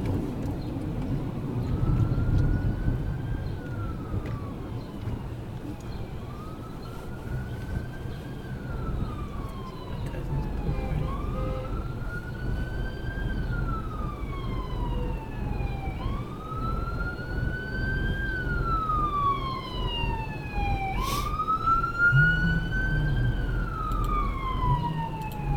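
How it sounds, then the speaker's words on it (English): A wailing siren rises and falls repeatedly as an ambulance drives past, mixed with steady traffic rumble; the wail grows louder midway. "So you hear the sirens in the background."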